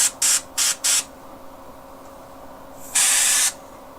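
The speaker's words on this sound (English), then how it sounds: "Some airbrush cleaner on here" An airbrush spraying cleaner through its nozzle while miniatures are being painted gives four short, close hissing bursts in quick succession, then a longer sustained spray after a pause, with no talking.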